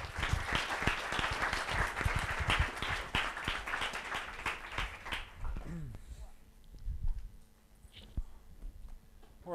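Lecture audience at the AA applauding speakers Metahaven, dense loud clapping for about five seconds that stops abruptly, followed by a speaker talking in a quiet room.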